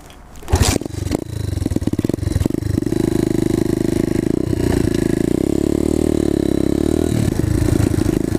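A new dirt bike's engine, during break-in, starts with a clatter, revs up, then settles into a loud, steady close-up idle drone.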